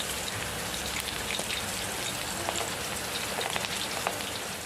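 Steady rain falling on surfaces, a dense continuous patter of drops with scattered sharper hits, even and close with no talk.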